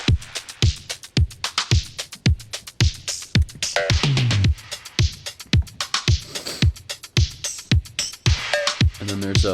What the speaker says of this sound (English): I'm using this plugin tape cassette from Calum Audio to add some saturation and a little bit of flutter to the hi-hats